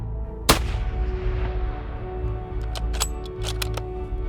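A single sharp, loud rifle shot fired at an eland during a hunt in South Africa, cracking out near the start over a steady outdoor rumble, followed by a few faint mechanical clicks.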